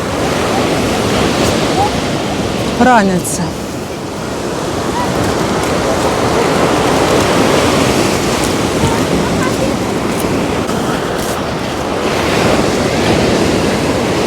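Storm waves on the Black Sea at Chornomorsk roar loudly and continuously close by, with heavy wind buffeting the microphone and a brief voice near the start.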